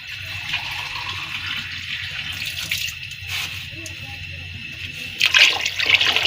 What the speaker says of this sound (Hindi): शोरबा है लेकिन कम लग रहा है, तो इसलिए हम थोड़ा सा पानी और ऐड कर देंगे।